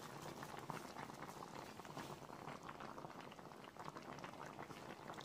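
Cauliflower simmers under a lid in a pan for a cauliflower roast, a faint, steady bubbling and gurgle that holds evenly throughout.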